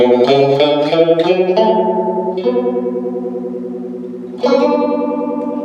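A distorted guitar plays chords through an MXR Phase 95 phaser pedal, its tone sweeping and swirling steadily; a fresh chord rings out loudly near the end.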